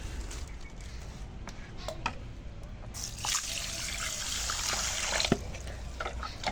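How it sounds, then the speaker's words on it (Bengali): Water runs and trickles into a container of rice being soaked for pea pulao, a steady close pour that swells louder midway before easing, with occasional small clinks. "এখন আমি ওই মটর পোলাও বানানোর জন্য এই চালটা ভিজিয়ে রাখি আগে"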